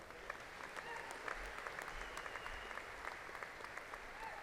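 Sustained audience applause for graduates at a university fall commencement ceremony, a steady dense clatter of many hands clapping throughout, moderately distant in a large hall.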